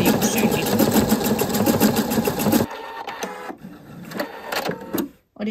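Sewing machine stitching a blind hem in dark navy thread, a fast steady run of needle strokes for about two and a half seconds, then quieter scattered stitches and fabric handling close by.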